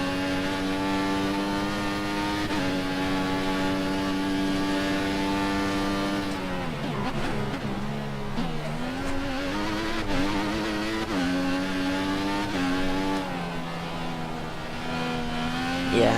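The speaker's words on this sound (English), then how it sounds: "Can I take this full throttle?" A Formula One car in the F1 2014 racing game screams at full throttle, its engine note holding high and steady, dropping sharply through downshifts, then climbing again as it accelerates; loud and continuous with no talking.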